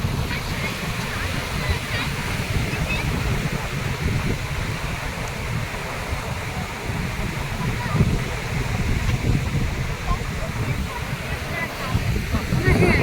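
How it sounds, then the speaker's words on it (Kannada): Sea waves surging up a shore at a Puducherry beach, a continuous broad roar of churning water, close and fairly loud throughout, with wind and faint voices mixed in. "ಅಲೆ ಜೋರಾಗ್ತಾ ಇದೆ, ಮೇಲ್ಗಡೆ ನೀರು ಬರ್ತಾ ಇದೆ."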